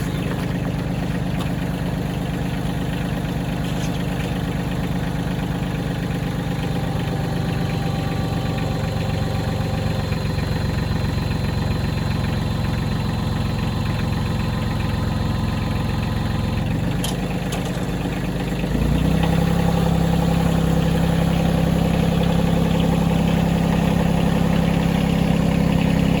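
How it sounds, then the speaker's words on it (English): An old Kodiak engine runs steadily at a rough idle, then its pitch and loudness step up near the end as it revs higher. "hopefully get this thing fired up before we pull the engine out of it"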